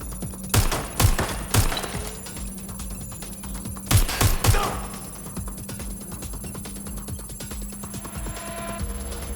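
Gunfire in Watch Dogs: Legion, clusters of sharp cracking shots in two bursts over a steady electronic hum, then quieter background.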